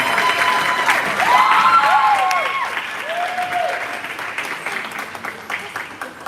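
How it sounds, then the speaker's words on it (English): Audience applause fills a concert hall, a sustained wash of clapping that swells and then gradually thins, with some cheering and voices mixed in. "Can we just give a quick round of applause for all the long hours they put in,"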